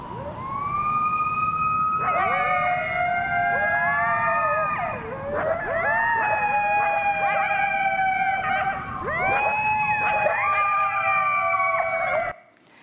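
A group of coyotes howls and yips in response to distant sirens, their wavering, overlapping high cries rising and falling continuously in a dense chorus over a steady background rumble, with a short pause mid-way before the chorus swells again.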